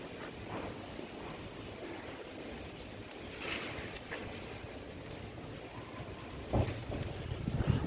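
A strong wind gusts through trees outdoors, including a swaying areca nut palm, making a rough, continuous rush close to the microphone that swells into louder buffets near the end.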